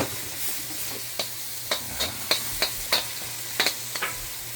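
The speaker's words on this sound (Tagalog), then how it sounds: "Tosta tayo ng bawang. Gisa-gisa ng bawang." Garlic sizzles in hot oil in a pan while a utensil stirs it, a steady frying hiss broken by a series of sharp scraping clacks at an irregular rhythm, close and clear with no voices.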